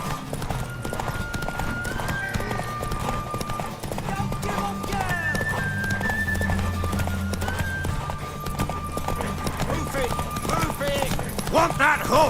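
In Witcher 3, a horse's hooves clop steadily under background music and game sounds, with a brief whinny, while voices talk over it.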